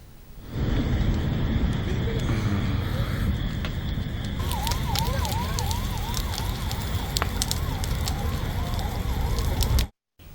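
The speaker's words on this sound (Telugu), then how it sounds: "బస్సులో ఒక్కసారిగా మంటలు చెలరేగాయి." Private travels bus burning after crashing into a lorry on a highway in Nandyal district, Andhra Pradesh, with loud steady roaring and crackling flames, a wailing siren partway through, and a sudden cut at the end.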